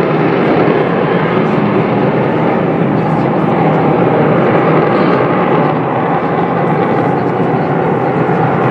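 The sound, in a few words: Avro Vulcan B.2 jet engine howl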